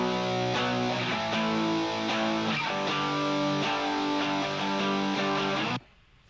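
Two layered electric guitar tracks, a cleaner part and a fuller one with different strumming patterns panned left and right, play a dense sustained chord progression, loud and steady for about six seconds before cutting off abruptly.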